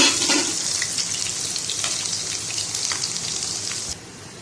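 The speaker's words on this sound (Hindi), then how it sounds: "अब मैंने देना इसमें बहुत खूब सारा लहसुन का भगाड़" Steady, loud sizzling of garlic frying in hot oil, a dense crackling hiss with scattered pops that cuts off abruptly near the end.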